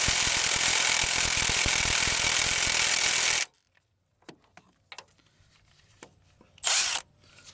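A Milwaukee right angle impact wrench, 2565P, hammers steadily on 9/16 nuts for about three and a half seconds, then stops abruptly, followed by faint clicks, clatter and a brief burst of handling noise.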